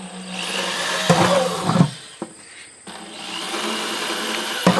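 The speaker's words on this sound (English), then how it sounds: "We're ready to drill our bucket." A power drill bores into a plastic bucket for a worm composting tower, running in uneven bursts with brief pauses and a couple of sharp knocks as the bit works through the plastic.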